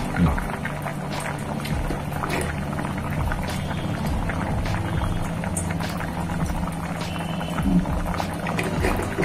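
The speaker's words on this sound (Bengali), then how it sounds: "তাহলে এবার ফুটুক" A pot of vegetarian curry bubbles and simmers with a continuous soft gurgling and popping, close and steady, while people talk nearby.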